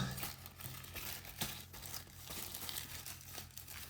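A Pokémon booster pack wrapper being torn open: quiet crinkling and tearing of foil packaging in several short bursts, close to the microphone, with no voices.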